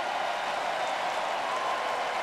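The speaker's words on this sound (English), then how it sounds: "This crowd is energized." An energized football crowd at a Salt Lake Stallions versus San Antonio Commanders AAF game roars and applauds in a steady, dense wash that stays level and fills the whole stadium with no voice rising above it.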